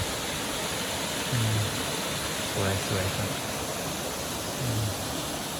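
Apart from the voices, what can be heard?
artificial waterfall at Wat Tham Pha Daen, Sakon Nakhon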